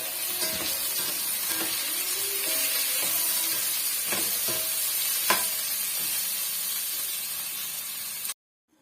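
Tomatoes sauté in a hot pan for a capsicum curry, a steady loud sizzle and hiss with occasional stirring scrapes and clicks, running continuously before cutting off abruptly.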